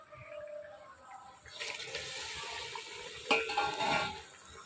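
Pieces of fish slide into boiling curry water in a Bengali fish dish, giving a soft splash and bubbling burst over a quiet simmering hiss, close and fairly faint.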